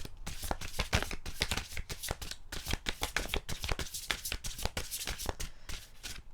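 Large cards are shuffled rapidly and continuously up close, a dense run of crisp slapping and fluttering riffles with no voices.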